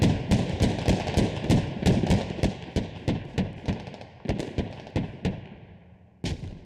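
A LAV-25 vehicle's cannon firing in the video game Squad: a rapid, loud, evenly spaced string of about twenty sharp booming shots, then a brief pause and one final blast.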